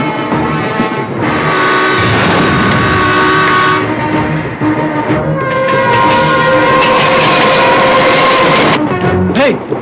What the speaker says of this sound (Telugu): ఇదే ట్రాక్ లో ఎదురుగా వేరే రైలు బండి వస్తుందిరా